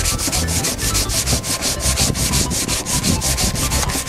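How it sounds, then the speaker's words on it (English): Sandpaper scrubs old finish and rust off a steel lawn mower blade in steady, rapid back-and-forth strokes, a loud continuous rasping with a regular rhythm throughout. "I try to remove the old finish and the rust from the blade with the sandpaper."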